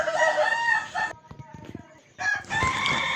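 A kukuak balenggek (tiered-crowing) competition rooster in West Sumatra crows loudly in a long harmonic call, followed by quieter farmyard sounds and then another loud crow starting near the end.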